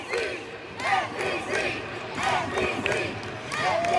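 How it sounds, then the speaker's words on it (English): A crowd at a youth taekwondo national championship cheers and shouts in repeated excited bursts, voices rising and falling loudly across the arena. "Excitement in the crowd."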